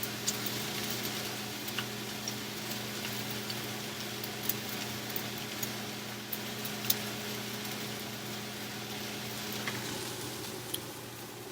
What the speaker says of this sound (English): Setting a timer for 2 minutes.